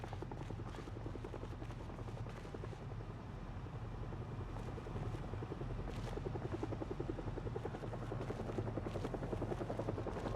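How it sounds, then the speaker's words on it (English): A helicopter in the zombie survival game Project Zomboid holds a continuous loud rotor chop and engine drone overhead for the whole stretch. The beating swells slightly at times, and there is no talking. "But I wouldn't mind if the helicopter didn't come back for a 3rd run."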